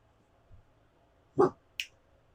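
A pet dog barks twice in the background of a quiet room, two short, sharp, fairly loud barks a moment apart with no talking.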